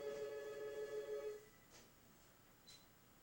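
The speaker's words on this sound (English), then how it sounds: "There's the phone ring." A telephone bell rings indoors for about a second and a half, a bright sustained trill that then stops, leaving a quiet room with faint small noises.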